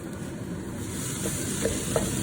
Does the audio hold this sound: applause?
no